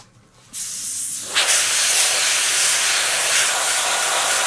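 Airbrush spray painting a model StuG III Ausf B tank: after half a second of quiet, a steady, close hiss of spraying starts and brightens slightly, continuing evenly to the end with no talking.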